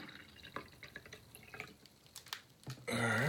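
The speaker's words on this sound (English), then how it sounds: "So we're gonna pour it out." Scattered drips and splashes give way to a steady stream of limeade pouring out, gurgling and close by.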